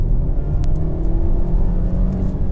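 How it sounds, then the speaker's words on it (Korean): Renault Samsung QM6 LPe with a CVT under hard acceleration, a loud, steady engine drone and road rumble heard from inside the car without any distinct rise in revs. "이게 가속 페달을 밟은 지는 오래됐는데 뒤늦게 가속이 펼쳐지는 그런 광경을 목격하실 수 있으실 겁니다"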